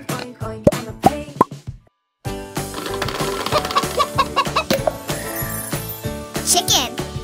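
A toy farm-animal chicken gives out clucking sounds, a few sharp clucks and plops, then a brief silence and a busier stretch of clucks over a jingly tune.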